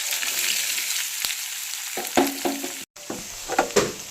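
Green beans drop into a pan of popped mustard seeds and fry with a steady, close sizzle, broken by a few stirring scrapes and clicks, with no talk.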